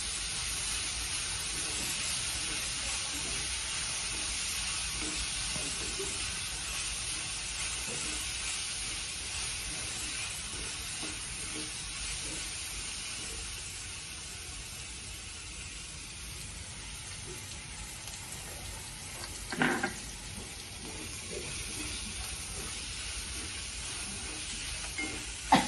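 Chopped onion and crushed green chillies frying in a pan for a Maharashtrian ran bhaji, a soft, steady sizzle and hiss running throughout, with a couple of brief clinks of a spoon near the end.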